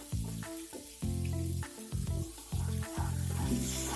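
Carom seeds (ajwain) sizzling in hot oil for kadhi pakora, a steady close crackle running throughout beneath loud, rhythmic background music.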